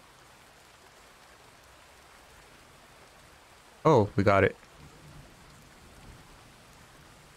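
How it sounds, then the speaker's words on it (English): Steady thunderstorm rain in the video game Fisher Online hisses throughout at low level, with a brief spoken exclamation in the middle. "Yep, that's a thunderstorm."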